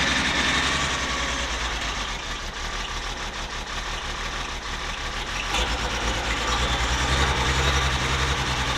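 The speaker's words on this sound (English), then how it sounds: "That's full throttle." Engine of a one-owner Diamond T truck held at full throttle, giving a continuous, loud, rumbling roar close by with slight swells and no talk.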